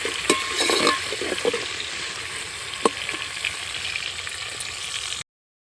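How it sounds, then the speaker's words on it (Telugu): Onions frying in a pan for chicken fry, stirred with scattered scraping clicks and a spoon knock over a continuous sizzle, close and fairly loud, ending abruptly. "అందుకే ఆనియన్స్ వేసేసుకున్నాం మంచిగా అయితే కలుపుకోవాలి"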